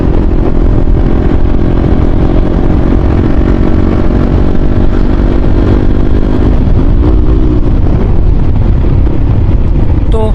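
A motorcycle with a modified exhaust runs loud and close, a dense, rough engine roar that holds steady with a slight shift in pitch near the end.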